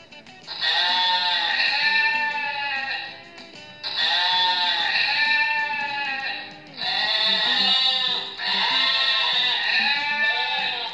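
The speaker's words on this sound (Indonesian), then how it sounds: "Bagaimana sih kalian membunyikan suara kambing?" A goat bleats in four long, wavering, nasal calls separated by short pauses, loud and close, with a faint background murmur.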